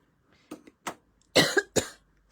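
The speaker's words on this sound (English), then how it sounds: "Sorry, I still have this darn cough." A person coughs repeatedly during a papercraft card-making tutorial, with roughly five short, close, fairly loud bursts spaced apart over a couple of seconds and no talk between them.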